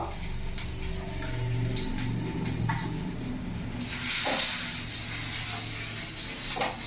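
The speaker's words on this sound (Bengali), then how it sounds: "তেল গরম হয়ে গেছে, এবার এখানে আমি রসুন কুচি দিয়ে দেবো।" Chopped garlic frying in hot mustard oil in a pan gives a steady, close sizzling hiss that swells louder and brighter about halfway through, with no voices.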